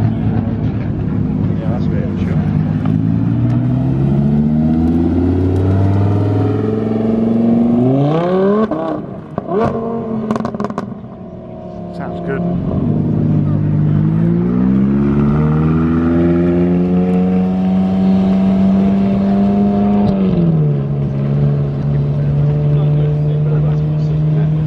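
A white McLaren 570S drives past at a car meet, its engine note rising and falling through several revs and gear changes, loud and close, with a brief dip in the middle.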